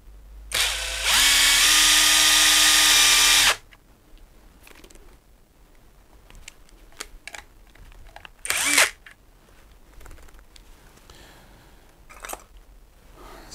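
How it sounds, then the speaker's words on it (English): Power drill or impact driver spinning a stiff vacuum cleaner motor: one loud, steady whine lasting about three seconds, then a brief second burst among quiet handling clicks. "What I can do is put a drill on it and just give it a spin."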